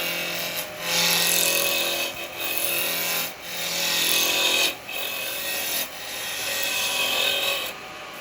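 Carbide chisel roughing a spinning wooden vase blank down to round on a lathe, steady scraping rasp in repeated passes of a second or two, separated by brief pauses, close and alone.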